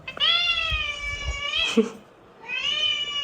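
A cat meowing nearby, two long, loud, drawn-out wailing cries separated by a short pause, with a brief scuffle between them.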